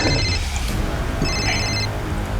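A telephone rings in a Crime Patrol crime drama scene: a steady electronic ring sits over a low background hum, with no talking in between.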